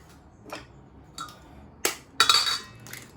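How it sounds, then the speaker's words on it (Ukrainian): Two eggs cracked and dropped into a mixing bowl while making mini pizza dough: faint taps, then two sharper clinks and a small splatter of shell against the bowl, close and otherwise quiet. "тепер сюди додаємо два яйця"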